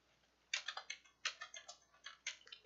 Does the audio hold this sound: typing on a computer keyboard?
yes